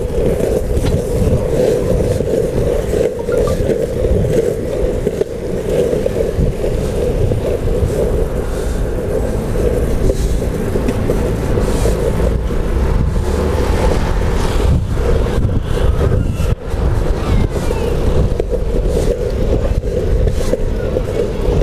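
Continuous rolling roar of urethane wheels on pavement from a customized Carver C7 replica surfskate being ridden outdoors, steady and close with wind rumble and faint pumping variations, no speech.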